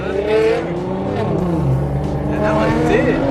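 Cars race on a freeway, including a Mustang GT500, with close engine revs rising and falling and a brief tire squeal as someone talks over it.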